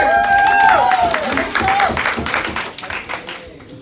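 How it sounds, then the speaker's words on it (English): A stand-up comedy audience at Kairos 2019 claps and cheers for a pastor's daughter, with whoops and a voice rising over the dense clapping, which then thins out and fades. "Give a clap for her."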